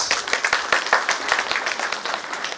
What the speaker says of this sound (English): We're expecting a huge round of applause for the dignitaries who are residing within our auditorium